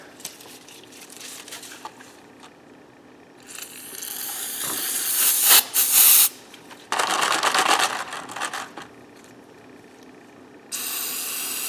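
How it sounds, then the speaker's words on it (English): Brake cleaner is sprayed on Traxxas Rustler gearbox gears in a container, giving several loud, hissing spray bursts of varying length, with quieter rustling between them. "I'll take some brake cleaner."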